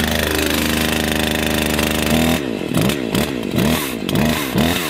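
A Husqvarna 543 XP chainsaw idles with a steady buzzing drone, then revs up and down in repeated throttle bursts, close and loud; a brief spoken phrase occurs.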